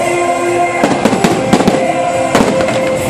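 Fireworks bursting over Rainbow Bridge in Penghu, a fairly loud run of crackling pops and booming bursts against a constant outdoor crowd hum, with no clear speech.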